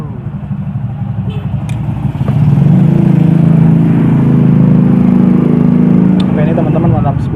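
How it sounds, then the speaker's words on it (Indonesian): Motorcycles passing on a busy main residential road, an engine drone that swells loudly midway and stays heavy, heard under someone talking. "karena memang rumah gua di samping jalanan utama komplek, jadi ini memang agak berisik nih motor-motor"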